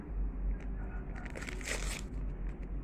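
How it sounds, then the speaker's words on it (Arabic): A baking powder packet is handled in a kitchen while making basbousa, giving faint crinkling and crushing rustles that bunch up in the middle, close and quiet, with no talk. "وهنحط كيس البيكنج باودر"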